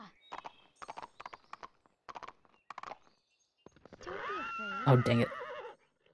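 Clip-clop of horse hooves in a Barbie Horse Adventures video game, a string of short rhythmic steps followed by a loud, drawn-out whinny, with a brief spoken remark over it.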